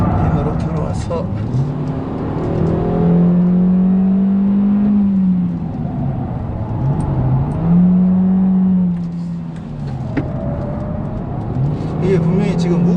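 A Hyundai Avante 1.6 hums steadily as it laps a race circuit, its engine note rising and falling through the corners, with someone speaking continuously over the drone.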